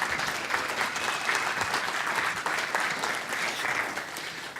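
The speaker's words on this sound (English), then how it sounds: "And you might want to applaud for him." Conference audience at a technical talk applauding Jim Jagielski, a soft, even wash of many hands clapping from a room of attendees, steady and somewhat distant throughout.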